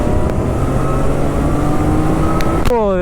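A motorcycle engine runs close by with a steady, loud droning hum, then a sharp rising whine near the end; no one speaks over it.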